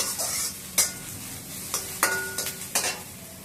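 Green chillies fry in a pan, with a soft steady sizzle under repeated scraping and stirring knocks and a few metallic clinks from the utensil.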